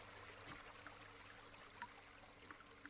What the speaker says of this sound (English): I'm going to go take a bucket of water, sluice that.